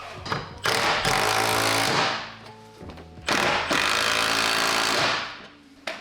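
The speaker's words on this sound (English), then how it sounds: "Since I did use an impact, just want to make sure they didn't go too tight" Impact wrench driving Recaro seat bolts in a Subaru 2.5RS GC8: two loud, close, rattling hammering bursts of about a second and a half each, with softer clunks and handling noise between them.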